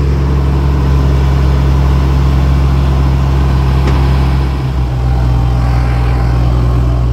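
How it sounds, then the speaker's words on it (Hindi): The rear cabin engine of a Terex Demag AC 250 mobile crane runs at a steady idle. It is a loud, continuous low rumble with a slight dip partway through. "पिछले कैबिन का इंजन स्टार्ट है और अगले कैबिन का इंजन जो है वो बंद है।"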